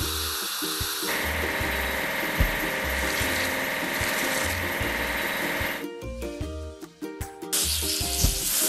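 Water spray washing a truck in a kids' construction truck game: a loud continuous hissing jet runs for several seconds over upbeat game music, breaks off briefly, then starts again near the end.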